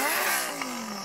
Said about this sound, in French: Puis-je écouter le son de votre pot d'échappement?